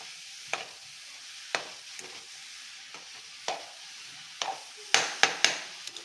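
Grated coconut and sugar are stirred in a pan over a low flame, a spoon scraping and tapping in irregular strokes over a faint sizzle, with a quick flurry of scrapes near the end and no voices.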